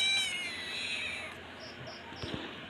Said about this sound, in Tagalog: Karot talaga nitong pusa na to eh.